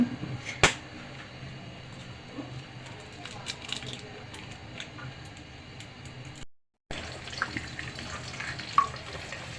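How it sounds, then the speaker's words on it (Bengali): Two eggs fry in hot oil for vegetable egg fried rice, a steady close sizzle running under the whole stretch with scattered ticks and a sharp pop near the start and a brief cut mid-way. "এখন ডিম দুটোকে আমি একটু ভেজে নেব ঝুরি ঝুরি করে।"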